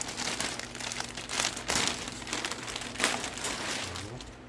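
Plastic wrapping around a new Surron Ultra Bee electric dirt bike frame being handled and pulled, giving close, continuous crinkling and rustling with a few sharper crackles.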